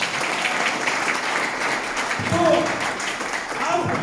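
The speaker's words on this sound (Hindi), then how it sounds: "तो प्लीज इन सबके लिए एक जोरदार ताली।" An audience at a DXN business seminar applauds steadily throughout, a dense wash of clapping that swells slightly partway through, with a brief voice over it.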